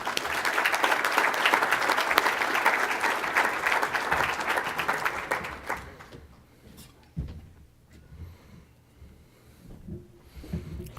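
A crowd at a high school football banquet breaks into dense applause that lasts about five seconds, then dies away into quiet room noise with scattered bumps and movement.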